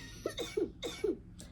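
A recorded cough sound played for schoolchildren: several short, sharp human coughs in quick succession, fairly close and clear over a quiet background.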